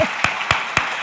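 A church congregation claps in a slow, steady rhythm, three sharp distinct claps spaced evenly, close and fairly loud, with no speech over them.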